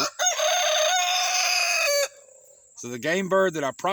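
A rooster crows loudly in one long, drawn-out call among farm fowl kept with ducks and geese, followed by shorter clucking bursts from the chickens nearby.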